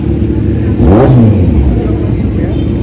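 Motorcycles, scooters and big bikes at a Shell gas station in Marilaque, with one engine revving up and easing off up close while someone talks over the rumble.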